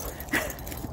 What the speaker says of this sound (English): Slightly randy dog.